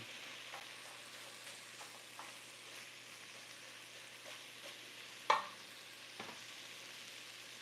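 Dirty rice with sausage frying in a pan sends up a steady low sizzle, with occasional stirring scrapes and one sharper clatter of the spoon, heard close and without talk.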